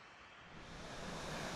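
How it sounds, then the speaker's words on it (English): Steady broadband rush of a nearby waterfall below Mount Adams in Washington's Cascades, heard from a summer backcountry camp, building slightly louder and constant with no voices. "We're very close to a waterfall that we can hear over here."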